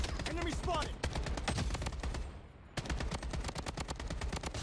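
Gunfire in the video game Project Bloodstrike comes as rapid bursts of loud automatic shots, with a brief lull in the middle before the firing resumes at a fast, rattling pace.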